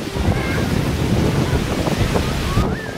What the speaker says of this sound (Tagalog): grabe ang hangin dito. Sigurado akong maingay itong footage ko.